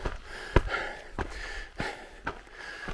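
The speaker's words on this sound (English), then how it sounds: "If you can hear me breathing, that's real." Heavy, labored breaths from a hiker climbing a steep, cactus-lined desert canyon trail uphill, four or five sharp close inhales and exhales at a steady rhythm, faint and alone.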